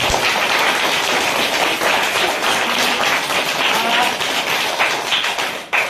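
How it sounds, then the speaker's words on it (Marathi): A village audience applauds a schoolgirl at a tree-conservation event, a dense, steady wash of many hands clapping together that fills the whole stretch at strong level before cutting off abruptly at the end. "प्रथमतः सर्वांनी टाळ्या वाजून तिचं अभिनंदन करायचं आहे"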